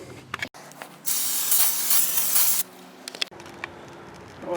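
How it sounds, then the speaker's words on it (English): A can of brake cleaner sprays onto a car's front brake rotor during a wheel bearing job on a Chevrolet Equinox or Pontiac Torrent: one loud, close, steady hiss lasting about a second and a half, set between quieter workshop handling noises. "we'll take some brake clean and clean the rotor off."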